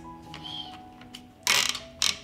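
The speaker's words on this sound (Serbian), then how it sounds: "Zatvaram ekspres lonac" A 6-litre pressure cooker lid is closed and locked in a kitchen, giving soft mechanical clicks followed by two sharp, close metallic clacks in quick succession.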